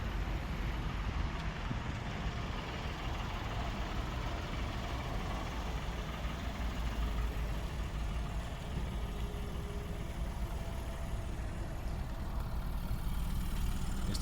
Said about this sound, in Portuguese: Este escape deve ter alguma coisa solta.